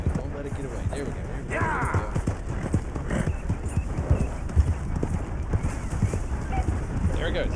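Horse hooves clip-clop in a steady trotting rhythm in a video game, with occasional whinnies, while a person talks over them throughout.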